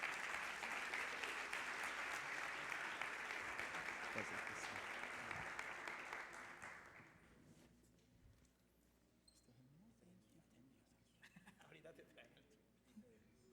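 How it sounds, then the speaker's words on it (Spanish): Sustained, loud applause from a church audience welcoming a preacher, filling the first half and then fading away into quieter room noise with a faint voice beginning. "Por favor, recíbalo con un fuerte aplauso."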